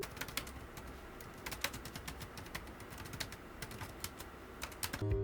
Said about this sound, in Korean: 키보드의 타건음을 들어보면 경쾌한 느낌을 주는 편인데요.